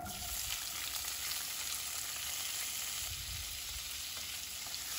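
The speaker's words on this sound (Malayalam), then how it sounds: "ഇതിലേക്ക് അരിഞ്ഞു വെച്ച പച്ച തക്കാളി ചേർക്കാം" Chopped green tomatoes frying with urad dal in a pan for chutney, a close, steady crackling sizzle that runs unbroken throughout, with no talk.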